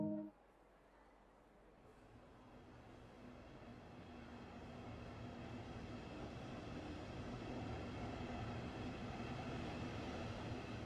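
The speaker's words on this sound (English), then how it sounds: "This train is ready to go. Push the indicated handle forwards to get moving." A train in Train Sim World 2 starts to move on a Dresden line. A steady mechanical hum and rumble swells slowly after a brief start, with no talk over it.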